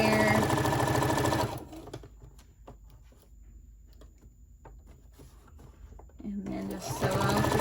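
A sewing machine runs in two loud bursts at the start and end, sewing the seam of a spring tote bag, with a quieter gap of handling and small clicks between them.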